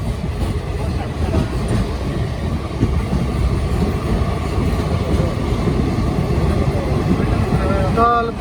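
Shri Mata Vaishno Devi Katra Jabalpur Weekly SF Express train in motion, a loud continuous rumbling roar with rail noise heard from inside, steady throughout with no clear wheel rhythm.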